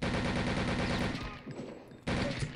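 Rapid automatic gunfire from Return to Castle Wolfenstein, a loud rattling stream of shots that breaks off briefly, then resumes at full volume, with no talking over it.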